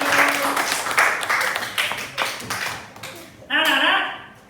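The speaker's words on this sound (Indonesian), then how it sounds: "Tepuk tangan buat Hairi yang sudah berhasil" Classroom applause for a student after a science lesson on states of matter, a short patter of clapping from a small group of pupils that fades, followed by a teacher's voice speaking.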